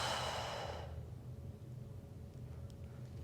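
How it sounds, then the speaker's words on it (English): A long, breathy exhale during a Pilates ball exercise, loud and close at first and fading out within a second into a quiet room. "And exhale."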